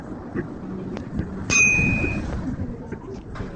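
A single bright bell ding rings out clearly, with a sustained ringing tone that fades over about a second, over a low background hum.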